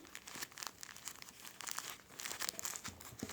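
A homemade fidget toy made of a napkin taped around a cotton stuffing is squeezed close up, giving continuous soft crinkling and crackling of paper and tape at low volume, with no talking.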